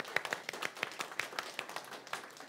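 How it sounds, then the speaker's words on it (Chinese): A church congregation clapping in encouragement for standing group leaders, a sparse, quiet scatter of separate hand claps in an uneven rhythm that never builds into full applause. "那我们要给这些人一个鼓掌鼓励"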